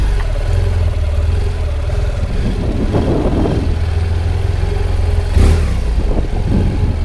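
A motorcycle engine hums steadily at low revs while riding slow turns inside a building's garage, loud and close, with one short surge of throttle and a hollow indoor echo.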